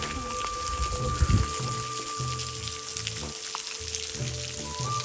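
Water from a cold mountain stream near a waterfall in Nali Valley, Azad Kashmir, rushes in a steady, close, broadband wash, with a few louder splashes and faint tonal hums underneath.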